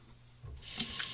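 Tap water splashes into a sink as a Parker 48R gold razor is rinsed. It is a brief, soft gush that starts partway through after a near-silent moment.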